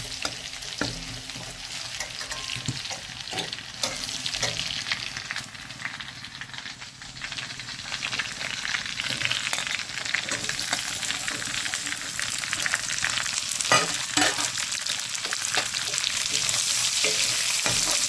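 Onions, dried chillies and jimbu fry in hot oil, a loud, steady sizzle with frequent scraping and stirring strokes that grows slightly busier toward the end.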